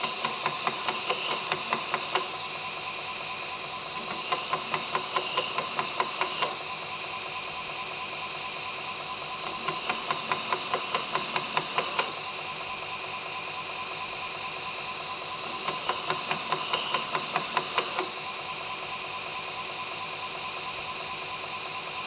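Belt grinder finish-grinding a 3.5-inch hunting knife blade freehand at 220 grit: a steady hissing abrasive drone in four passes of roughly two and a half seconds, separated by short lulls, with no talking.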